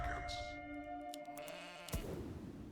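A sheep bleats in the tower defense game Legion TD 2. The short, wavering bleat is heard above a layer of game music and effects, and a sharper hit sounds near the end.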